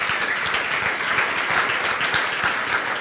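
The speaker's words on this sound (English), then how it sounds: "I would like you to give a big round of applause for my amazing teammates" Audience applause for a presenter's teammates at a coding bootcamp demo day in Berlin, a dense, steady wash of clapping from a sizable crowd, heard alone and filling the room.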